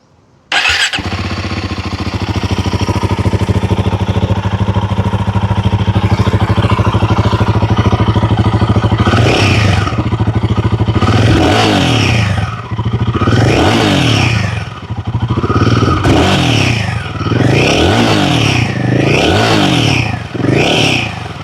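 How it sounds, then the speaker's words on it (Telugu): A Royal Enfield Guerrilla 450 motorcycle starts with a click and settles into a loud, close idle, then its exhaust snarls through a series of sharp throttle revs that rise and fall in quick bursts. "రాయల్ ఎన్ఫీల్డ్ గరిల్లా 450 యొక్క ఎగ్జాస్ట్ నోట్ అయితే విందాం."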